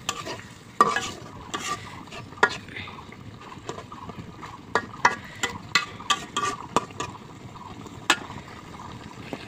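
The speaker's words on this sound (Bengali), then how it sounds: "এবার মাছগুলো মশলার সাথে ভালো করে কষে নেবো কিছুক্ষণ।" Pangas fish pieces are stir-fried in spice masala in a pan, a low sizzle punctuated by a rapid run of loud spatula knocks and scrapes against the metal.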